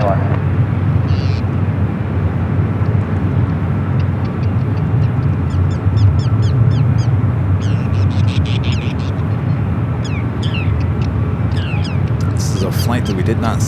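A jet aircraft, a China Eastern heavy, rumbles steadily on the runway at San Francisco airport, a loud continuous low roar through which radio talk is heard.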